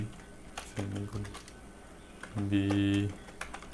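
Computer keyboard typing while Python code is written: scattered light key clicks, close and fairly quiet, with a voice sounding briefly in between.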